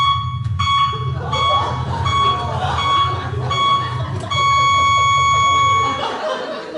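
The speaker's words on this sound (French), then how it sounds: "c'est le même bip que le bip de recul sur ma voiture" Electronic beeping much like a car's reversing alarm, a steady run of shrill repeated tones with short gaps, over a busy background with voices and some laughter.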